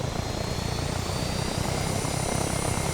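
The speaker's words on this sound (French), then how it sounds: "il y a un Blackfish. Donc c'est ça le Blackfish. C'est le plus gros hélicoptère." The Blackfish, the largest helicopter in the video game Arma 3, flies nearby in a loud, continuous rotor and turbine roar with a dense rhythmic thrum and no pauses.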